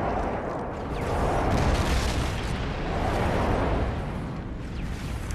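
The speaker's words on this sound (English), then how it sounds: "Enemy airstrike approaching." Airstrike explosions in a first-person shooter game, a continuous loud rumbling barrage of booms swelling and fading without a break.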